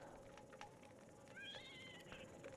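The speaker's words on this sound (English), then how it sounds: "It's a good thing I don't really mind the kitty kit noises too much." In Don't Starve Together, a kitty kit pet lets out a soft, faint meow with a rising, wavering tone, set against quiet game ambience.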